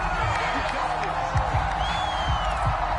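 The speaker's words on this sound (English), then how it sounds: "Plenty of shouts from this crowd as they watch the replay." A stadium crowd in a PS4 football game shouts and cheers while a play is replayed, a steady dense roar with scattered whoops and rising calls.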